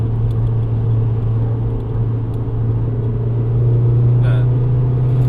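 A 2007 VW Golf GT TDI, BKD diesel, held around 3700 rpm in second gear, gives a loud, constant vibrating hum that swells slightly toward the end, with brief faint sounds above the drone.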